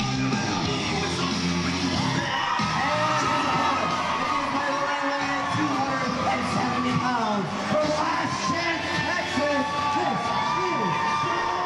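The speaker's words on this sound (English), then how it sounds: "This place, capacity crowd on its feet." A capacity crowd in a wrestling arena roars, yells and cheers nonstop, a loud, dense wall of voices with whoops rising above it, and a commentator talks over the noise.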